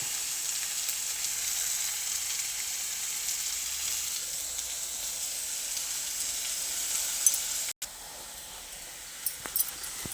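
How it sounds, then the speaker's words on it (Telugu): Onions fry in a pan for a Telugu egg pulusu, a steady bright sizzle that holds throughout, close and fairly loud, with a brief break and a few small pops near the end. "చూడండి, ఆనియన్స్ ఇంకా వేగుతూ ఉన్నాయి. బాగా రెడ్ కలర్ వచ్చే వరకు వేస్తాను."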